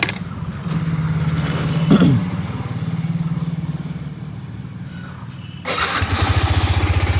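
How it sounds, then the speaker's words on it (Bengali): A scooter engine is cold-started from rest and settles into a steady, close idle that runs throughout, with a short rising burst near the start and a brief dip before the engine note returns strongly. "তো ভাই স্কারকে এখন করছি কোল্ড স্টার্ট।"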